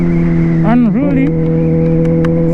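A motorcycle engine drones steadily close-up while riding on the street, with one quick rev blip that dips and rises in pitch before settling back to a steady hum.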